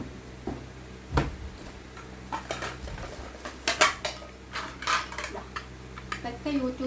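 New stainless steel kitchen vessels and a frying pan handled while being unboxed: sharp metallic clanks and clinks come at irregular intervals, some louder knocks among lighter rattles, fairly close and with no talk over them.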